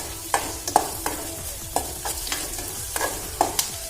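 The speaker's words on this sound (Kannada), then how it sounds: "ಚೆನ್ನಾಗಿ ಇದು ಫ್ರೈ ಮಾಡಬೇಕು" Chopped onion fries in a pan for a goat brain fry, a soft sizzle broken by a spatula scraping and clacking in an uneven rhythm, close and clear.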